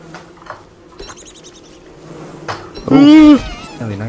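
A swarm of bees buzzing in Don't Starve Together, a thin droning hum under scattered game effects, with a louder tonal burst near the end and a short snatch of voice.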